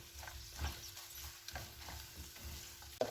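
Dried anchovies frying with onions in a pan, a soft steady sizzle beneath intermittent scraping stirs, with a sharper clack near the end.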